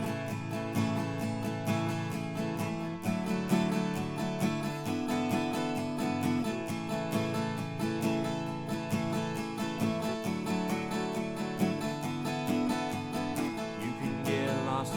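Steady acoustic guitar strumming in an even down-up pattern, rhythmic chords played close and continuously with no voices.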